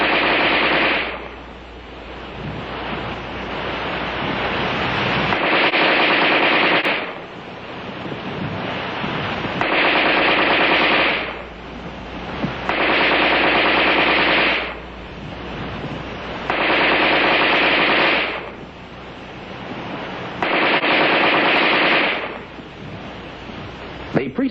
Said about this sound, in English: The rifleman fired 100 rounds of NATO ammunition in 30 seconds.